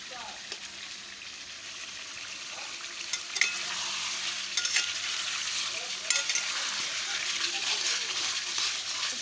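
Aloo dum, a vegetarian potato curry with ginger paste, cooking in a pan, a soft steady sizzle with occasional clinks of a utensil and a faint voice in the background.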